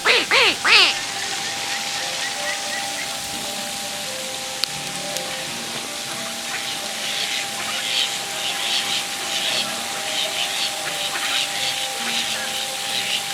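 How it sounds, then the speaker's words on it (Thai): A flock of geese at a Ratchaburi countryside spot give a few sharp honks at the start, then a steady background hiss with faint scattered calls continues. A voice speaks softly in the background. "ด้านในนั้นก็จะเป็นห่านนะครับ หลายตัวเลยทีเดียว"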